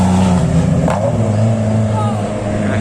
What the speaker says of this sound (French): Et petit bruit qu'elles font les voitures.